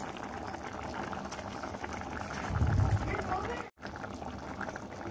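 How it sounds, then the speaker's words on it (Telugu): Onion dal bubbling in a pot on the stove, a soft continuous simmering burble with a slight swell midway and a brief cut-out, low and close without clear talk. "ఇది ఉడుకుతుంది కదా"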